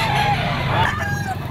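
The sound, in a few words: Sweater bloodline gamefowl rooster crowing at a pet market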